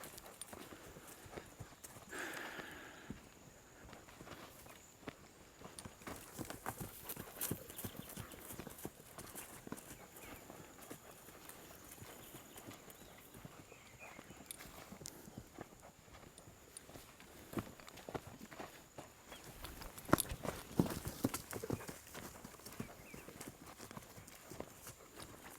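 A wild horse being tamed trots and runs, its hooves clip-clopping steadily on the ground in a faint, continuous rhythm throughout, with a slightly louder patch of hoofbeats near the end.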